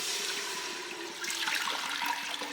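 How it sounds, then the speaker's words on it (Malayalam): Water poured into a pot of rice for ghee rice, a continuous gushing, splashing pour that holds steady and grows slightly fuller toward the end, with no voices. "ഈ വെള്ളം ഇതിലേക്ക് ഒഴിച്ചു കൊടുക്കാം."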